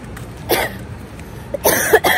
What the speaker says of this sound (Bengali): এখানেও কাশি হচ্ছে